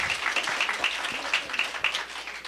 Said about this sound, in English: And that's worth clapping about.